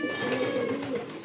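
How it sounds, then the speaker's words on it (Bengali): A domestic pigeon being hand-fed gives soft, continuous cooing and low burbling calls, close by and steady for the whole moment, with no talking. "এই যে এটা আমার কবুতর হ্যান্ড ফিডিং করাই"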